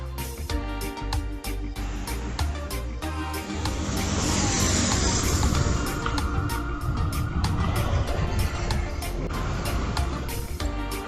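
A Carb-Evo Mercury electric scooter accelerates hard in sport mode outdoors, giving a loud, continuous motor whine with road and wind rush that swells partway through. No one talks.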